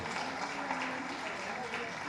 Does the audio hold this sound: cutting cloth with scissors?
no